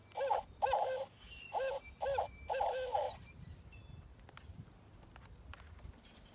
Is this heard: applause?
no